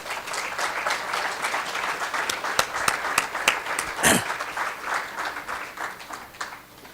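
An audience at a UN tourism forum on gastronomy in Africa claps for ministers, with individual sharp claps standing out within a swell of applause that fades after a few seconds.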